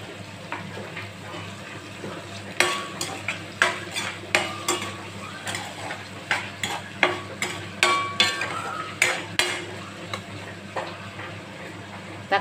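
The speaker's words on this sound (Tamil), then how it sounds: "3 தக்காளி கட் சின்னதாக கட் பண்ணதை போட்டு நம்ம நல்லா வதக்கலாம்" Small chopped tomatoes sauté in a pan for a hotel-style veg kurma while a utensil stirs them, giving repeated scraping knocks in an irregular rhythm over a steady low sizzle.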